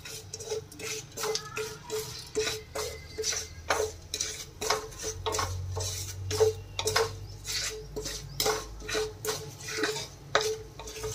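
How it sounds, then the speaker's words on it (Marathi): Poppy seeds roast in oil in a pan for Kolhapuri misal, giving a steady run of soft, close sizzling crackles with frequent light scraping and stirring clicks against the pan, and no voices. "थोडीशी खसखस, हे तेलामध्ये थोडेसे भाजून घ्यायचे।"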